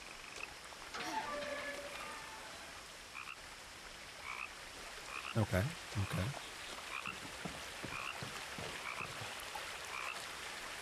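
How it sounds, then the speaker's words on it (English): Frog croaking in the video game What Remains of Edith Finch, a series of low, throaty croaks in the middle of the clip over ambient game sound, with a speaker briefly talking. "Where's that frog at, though?"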